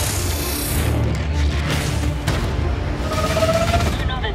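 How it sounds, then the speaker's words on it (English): Gunfire and booming blasts in a PlayStation VR shooter game during a breach, loud and dense, with rapid crashing bursts layered over game noise and voices. "I got gunfire."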